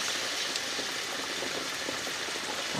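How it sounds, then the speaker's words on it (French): Vinegar hits a hot pan while a vegetarian parmentier filling is deglazed, giving a steady, loud, rain-like hiss and sizzle that holds evenly throughout, with no voices. "je vais déglacer avec la moitié de ma quantité de vinaigre"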